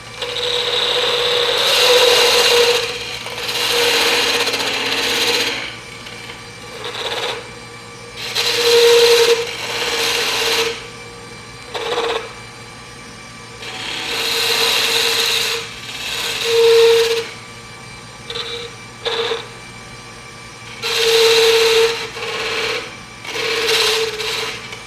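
Wood spindle being cut on a lathe, repeated loud bursts of scraping and cutting as the tool meets the spinning workpiece, separated by short pauses over a steady motor hum.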